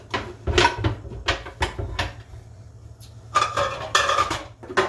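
Metal pans clanking and scraping as a high saute pan is pulled from a stack of pans, several close rattling bursts in uneven clusters with short pauses between them.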